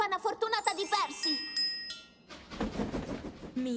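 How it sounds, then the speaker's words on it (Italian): A small lucky bell in a Thomas the Tank Engine cartoon rings in a brief bright jingle after singing, followed by a musical backing with voices. "Ed è tutto merito della campana fortunata di Percy."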